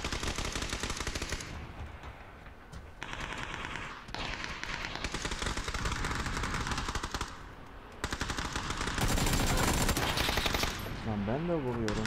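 Rapid automatic gunfire in the video game PUBG crackles in dense bursts separated by short pauses, loud and close, continuing for several seconds amid heavy in-game combat noise.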